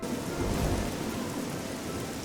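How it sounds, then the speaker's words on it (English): Steady rain and a rumbling thunderstorm from the video game Oblivion, a dense continuous downpour with low thunder rolling underneath, close and fairly loud throughout with no voices. "It's been raining all night."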